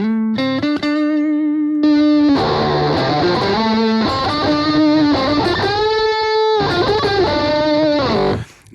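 Electric guitar played through a BOSS GT distortion with a Fender Twin amp model, heavily saturated sustained notes and chords with bright buzzing overtones, loud and close, ringing out before a brief cutoff at the end.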